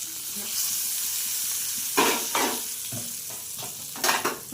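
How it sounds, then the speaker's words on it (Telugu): Hot tempering poured into peanut chutney sizzles loudly, with a steady hiss and a few sharp bursts of crackling close by, with no talk. "తాలింపు అయిన తర్వాత ఈ పల్లి చట్నీలో వేసుకొని కొంచెం వాటర్ పోసుకొని"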